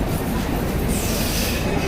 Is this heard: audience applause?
no